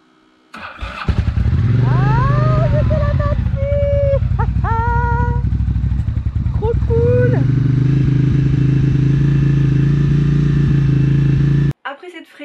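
A motorcycle engine starting after a battery jump-start on a road trip: a clattering crank catches, then the engine revs up loudly in a few blips and settles into a steady close idle before cutting off abruptly.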